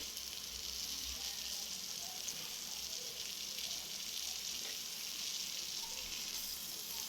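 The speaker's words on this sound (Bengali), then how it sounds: "একটু ভালো করে ভেজে নিলাম" Something in a pan gives a steady, low sizzle of frying, with a faint hiss running the whole time and no voices.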